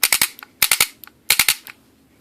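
Speedball paintball marker firing three-round bursts, three sets of three sharp rapid pops in quick succession, close and loud with a few softer single shots between.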